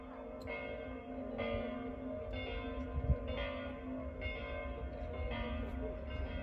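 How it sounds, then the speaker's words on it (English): Church bells ringing steadily at a moderate distance in Montefalco, a medieval hill town in Umbria, their tolling repeating in a sustained rhythm over outdoor ambience. "The bells are ringing, welcoming us to Montefalco."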